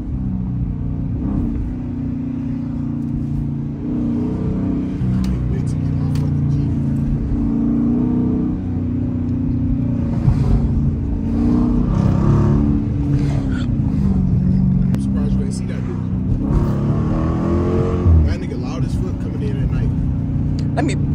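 A supercharged Dodge Challenger RT rumbles and revs while driving through city streets, its engine tone rising and falling in several pulls as people talk loosely over it.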